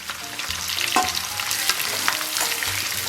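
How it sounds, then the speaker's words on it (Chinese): Pork ribs stir-fried in a hot wok with chopped scallion and garlic: a steady, close sizzle with repeated scraping and clattering from the stirring, and no voices. "继续给它煸炒一下"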